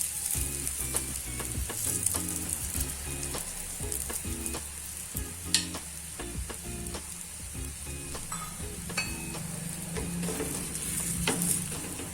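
Gujarati pudla, savoury batter pancakes, crackle in hot oil in a pan, a steady close sizzle running throughout with scattered sharp pops and light clinks, no voices.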